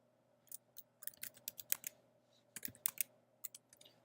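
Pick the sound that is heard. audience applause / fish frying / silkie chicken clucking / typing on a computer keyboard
typing on a computer keyboard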